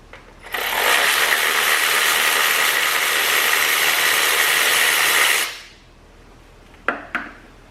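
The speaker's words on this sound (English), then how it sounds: "This is where the electric ratchet comes in handy" An electric ratchet spins out a spark plug during a DIY spark plug and coil replacement, giving a loud, steady high-pitched whir for about five seconds before cutting off, followed by a couple of brief clicks.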